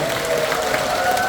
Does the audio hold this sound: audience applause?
yes